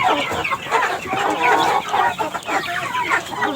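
Chickens cluck and squawk continuously, close by and fairly loud, with several birds calling over one another and no talking.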